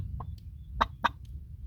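Hens cluck among their chicks on a village farm, a few short, sharp clucks spaced over a low, steady background rumble.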